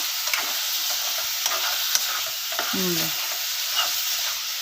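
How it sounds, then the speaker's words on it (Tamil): Steady loud sizzling of chicken 65 frying in hot oil, with occasional scrapes and clinks of a utensil stirring the pan. "நல்லா கிளறி விட்டுருங்க"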